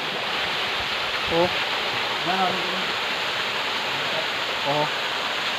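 A waterfall at a river picnic spot sends up a steady, even rush of water that fills the whole clip, with voices talking briefly over it.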